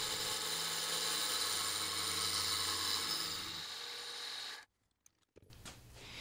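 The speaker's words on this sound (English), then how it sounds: "Just a skim off the tube with a 38mm hole saw will do the trick." A 38mm hole saw skims the end of a bicycle frame tube with a steady, close grinding rasp and a low motor hum, then stops abruptly and briefly restarts in short bursts.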